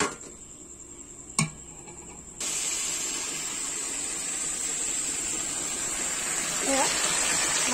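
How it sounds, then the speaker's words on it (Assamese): Chicken meat frying in refined oil starts with a sudden hiss after a quiet opening with one sharp click. The sizzle then holds broad and steady, close and moderately loud, until the end. "মাংসখিনি এনেকৈ তেলত ফ্ৰাই কৰি লৈছোঁ"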